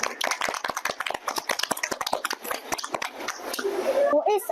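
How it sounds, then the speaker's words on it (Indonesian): Scattered audience applause at a children's performance, uneven claps crackling near and loud, then tapering into other noise. "Boleh kasih tepuk tangannya?"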